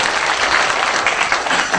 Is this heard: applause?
yes